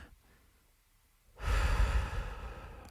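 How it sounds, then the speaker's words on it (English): A single deep breath during a guided meditation, quiet at first, then a loud, full, airy exhale that swells and slowly fades, heard close up with no voices. "Breathing in,"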